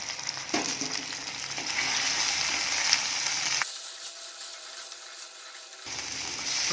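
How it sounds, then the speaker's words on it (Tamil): Onions and tomatoes sautéing in a pan with coarse salt for a village-style dried fish curry: a continuous close sizzle with scraping stirs, briefly dropping thinner midway before the full sizzle returns. "வெங்காயம் தக்காளி வதங்கட்டும்"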